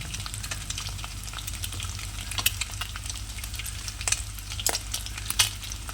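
Leftover rice tossed into a hot pan with egg for egg fried rice fries with a continuous crackling sizzle. Scattered stirring scrapes and clicks sound close up over a low, steady hum.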